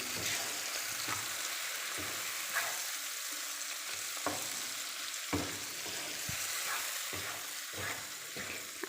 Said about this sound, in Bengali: চিংড়ি মাছ দিয়ে ভালো করে মিশিয়ে নেওয়া লাগবে